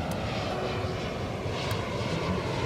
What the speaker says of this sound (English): It's a Jetstar airplane